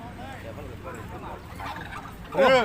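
Poultry call repeatedly at a Saturday cattle and buffalo market in Wang Hin, Sisaket, Thailand, with warbling clucks and gobble-like cries throughout and a louder, closer call at the end, over faint background voices.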